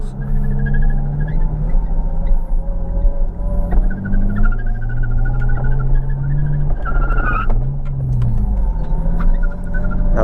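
A car with a welded differential drifts at night, its engine revving loudly and continuously with tire squeal rising and falling as it slides, shifting pitch through the run.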